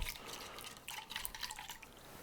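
Water is poured into a jerky marinade being mixed in a home kitchen, a faint, close trickle with light dripping and splashing, no voices present.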